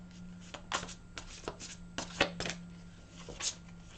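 Close, soft shuffling of tarot cards, a string of short papery flicks and taps at an uneven pace over a faint steady hum, with no talking.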